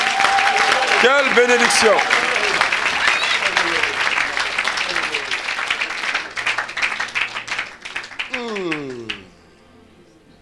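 A church congregation applauds for Jesus during worship, dense loud clapping that thins out and fades away near the end, with a voice speaking over it.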